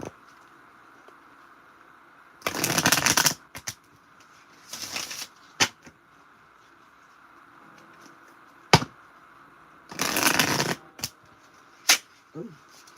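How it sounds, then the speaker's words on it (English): Tarot cards are shuffled by hand in bursts, with papery riffling and flicking sounds coming in short clusters separated by quiet pauses, close to the listener. "I hate shuffling on top of cards."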